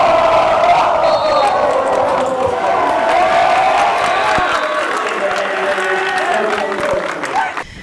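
A student section at a high school basketball game in a gym cheers and chants loudly, a dense crowd roar with whoops and shouted voices that fades slightly at the end.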